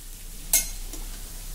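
Food sautés in a pan over a low gas flame with a soft steady sizzle and one quick scrape of a spoon being stirred, close and quiet, with no talking.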